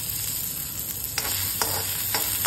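Pavta beans roast in a small amount of oil in a pan, giving a steady close sizzle broken by a few clinks of stirring.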